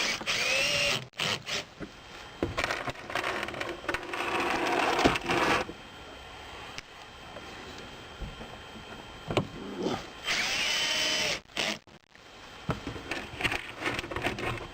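Power driver sinking screws into a metal shed roof, several separate bursts of whirring and grinding metal contact with pauses and clanks between them, close by, no voices.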